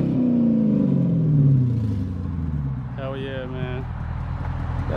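A Hemi 300 car engine idles with a low rumble and revs, its pitch sliding down as it settles. A voice talks briefly over the engine partway through.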